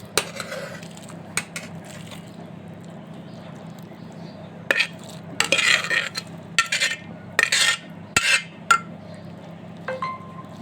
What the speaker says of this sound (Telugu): ఇప్పుడు దీన్ని కొంచెం నాకు మెత్తపడిపోయింది కాబట్టి కొంచెం జాగ్రత్తగా కలుపుతాను.